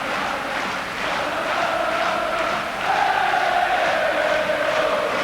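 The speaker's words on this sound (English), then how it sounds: "the home crowd are really enjoying their team's fight back now" Home crowd at a 1999-2000 Champions League football match between AIK Solna and Arsenal, a broad, steady roar of cheering that swells louder halfway through and holds there, with no close voices.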